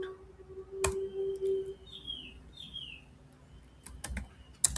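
Someone types an SQL query on a computer keyboard in a few quick bursts of soft clicks, with a short bird chirp in the background of an otherwise quiet room.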